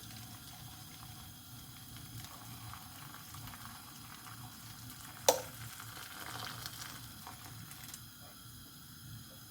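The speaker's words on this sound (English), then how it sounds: "Pour my boiled water in." Boiled water pours and splashes into a saucepan at low level, with a brief metallic clank midway and soft bubbling underneath.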